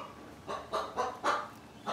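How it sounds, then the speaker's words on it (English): A chicken squawks in a run of four or five harsh, rasping bursts at moderate distance, with faint background noise between them, outdoors near a New Holland TC33D tractor. "Another squawky chicken over there."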